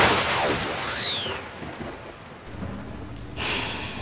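A thunder and lightning effect: a sharp crackling sweep up front, then a rumbling roll that fades before a brief hiss of rain at the end.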